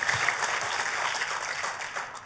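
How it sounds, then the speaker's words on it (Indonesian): A church congregation applauds in a full, steady wash of many hands clapping together, fairly loud and sustained from start to finish, with no speech on top. "Ayo kita kasih tepuk tangan yang paling meriah buat Tuhan kita"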